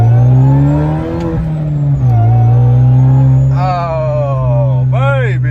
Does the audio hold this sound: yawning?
no